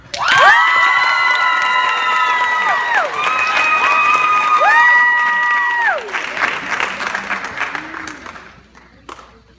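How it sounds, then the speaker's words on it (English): A crowd at a youth empowerment event claps loudly and cheers to welcome young speakers, with applause filling the room. Bright whoops and shouts rise over it before it thins out at the end. "I'd love for you to give him a really, really warm We Day style applause"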